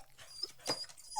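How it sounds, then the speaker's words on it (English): Kevin the dog gives a brief, faint whimper and a short nasal whine, quiet and close, with no talk. "This is the sound of Kevin the dog"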